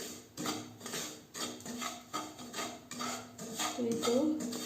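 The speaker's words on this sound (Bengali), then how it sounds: "তো এভাবে আমি সুজিগুলো ভেজে নিচ্ছি" Semolina being stirred and dry-fried in a pan for sujir barfi, with a utensil scraping and knocking against the metal in a steady repeated rhythm, close and moderately loud, with no talking.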